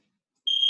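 A single steady electronic timer beep, high-pitched and clear, starts partway through and holds to the end in an otherwise silent beginners' exercise class.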